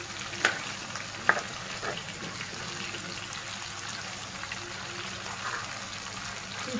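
Spicy fish frying in oil in a pan makes a steady, close sizzle and crackle throughout, with a couple of faint clinks early on.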